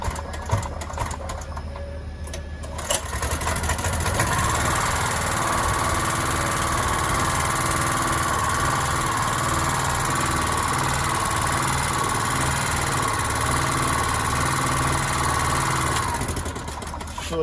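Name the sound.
petrol generator engine running after engine mounting replacement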